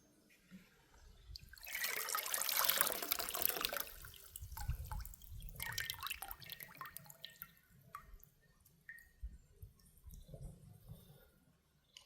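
Elderberries are rinsed in water, with splashing and dripping loudest early on, then softer trickles and sloshes at close range as the berries are handled.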